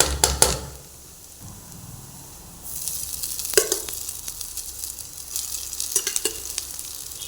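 Rice stirred and frying in a pan with sesame oil or ghee, a steady close sizzle that swells after a quieter start, broken by a few sharp clinks of a spoon against the pan.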